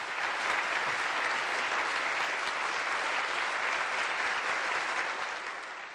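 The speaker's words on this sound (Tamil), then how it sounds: "ஒரு பலத்த கரகோஷம்." Sustained, even applause from an audience at a global launch event fills the room at moderate distance before fading out toward the end.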